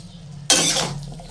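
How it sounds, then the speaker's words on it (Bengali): Boiled vegetables are stirred in a pan for bhaji, giving a sudden loud scraping rush that runs for most of a second, then a second sharp scrape at the end, close and with no voice. "এখন আমি একটু নাড়িয়ে নিচ্ছি ভাজি করার জন্য"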